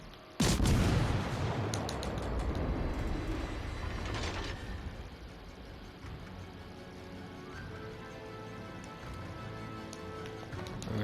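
Naval cannon fire from the World of Warships: Legends cruiser Worcester, opening with a heavy boom followed by a rapid, continuous rattle of gunfire and mechanical clatter, loud and sustained.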